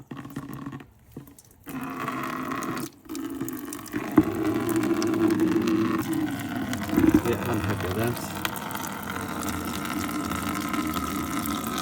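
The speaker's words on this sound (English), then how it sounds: "The last water flush using tap water." Tap water rushes and gurgles steadily through a car radiator during flushing, with brief pauses and splashy bursts, while a person talks briefly nearby.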